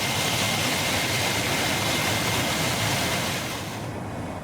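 B-2 Spirit jet engines at full throttle in Microsoft Flight Simulator, a steady, loud broadband roar that holds evenly and eases slightly toward the end, with no talk.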